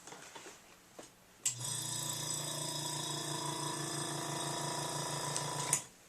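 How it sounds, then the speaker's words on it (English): A compressor-driven airbrush spraying Copic B52 blue ink starts abruptly and runs as a steady, loud whirring buzz with a low hum for about four seconds, then stops with a click. Faint ticks come before it. "it's going to be loud when you hear the airbrush machine come up"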